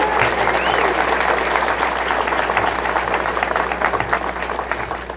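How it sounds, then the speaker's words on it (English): Loud, sustained applause from a large audience at a presentation of the record-breaking Fury roller coaster at Carowinds, dense clapping filling the whole stretch and easing slightly near the end. "Give yourselves a round of applause."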